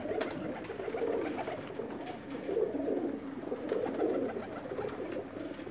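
Sialkoti pigeons coo steadily and close by in soft, overlapping rolling phrases, with no talk.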